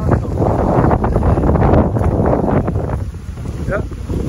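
Strong stormy wind roars continuously into the microphone while spin fishing for catfish in Spain, a loud broadband buffeting with gusts that swell and ease.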